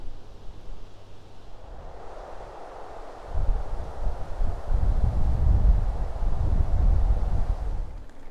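Steady, rough wind buffeting outdoors along the Lippe river in Germany, gusting up louder after a few seconds and staying strong, with low rumbling noise throughout.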